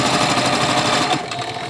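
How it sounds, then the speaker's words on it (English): Sewing machine running continuously while stitching a seam on a fabric face mask, a steady close-up mechanical whir that eases off near the end. "Turn your work. And just make a seam."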